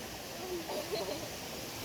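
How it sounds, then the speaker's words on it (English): The El Kabayo waterfalls, fed by a clear mountain spring in the Philippines, produce a faint, steady, broadband rush of falling water heard from some distance, with a few soft murmurs over it. "What do you think of the waterfalls?"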